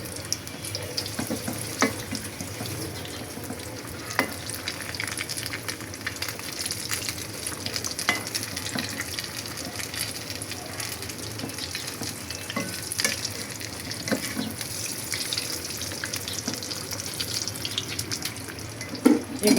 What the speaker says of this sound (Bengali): এখানে আরও কিছু আলুর চপ ভাজতেছে